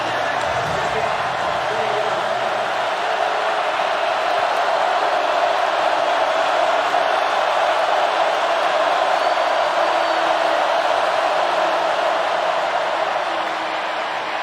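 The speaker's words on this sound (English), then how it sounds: "This crowd's getting loud." Stadium crowd at a college football game, Kentucky at Florida, a broad, sustained roar swelling and holding loud for the whole stretch, with a commentator's voice faintly underneath.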